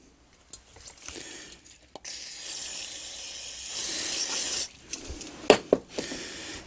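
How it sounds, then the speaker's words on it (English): Brake cleaner sprays onto the caliper pistons of a Yamaha Fazer 600 motorcycle in a steady hiss of about two and a half seconds, with a shorter burst afterward between small clicks and handling noises. "we'll spray the brake cleaner on them and clean all them pistons off"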